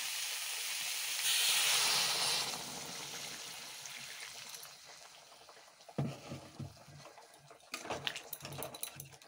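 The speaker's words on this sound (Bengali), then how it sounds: "এখন দিয়ে দেব গরম জল।" Hot water poured onto sautéed vegetables in a pan hisses and sizzles loudly at first, then fades to a quieter bubbling simmer with a few clanks of utensils near the end.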